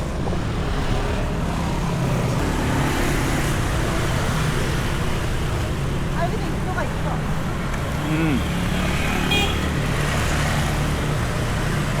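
Busy street traffic with many motorbikes in Ubud, Bali, rumbles and drones steadily, engines passing at close range, with some voices mixed into the dense noise.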